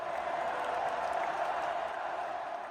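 A crowd cheers and claps in a steady, even wash of noise, heard as part of a radio advertisement about high school sports, with no clear voices on top.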